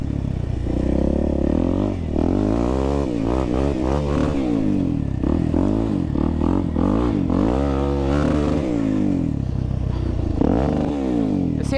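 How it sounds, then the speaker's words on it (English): A Honda TRX450R ATV engine revs hard into its rev limiter, a loud, close, raspy roar that rises and bounces in repeated rapid cuts, with some clattering mechanical noise throughout. "This has a nice rev limiter, though."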